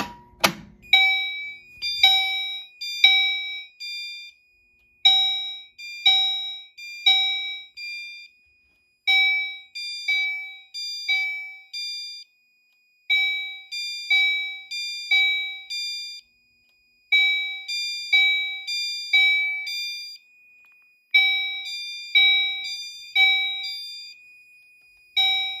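Simplex fire alarm system going off after a pull station is triggered in a test setup, a clear electronic chime repeating in groups of pulses separated by short pauses, steady and loud, preceded by a sharp click at the start.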